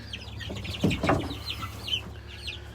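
Chickens and turkeys kept in a chicken tractor give short clucks and peeping calls at close range, a brief flurry of bird voices over a low droning background.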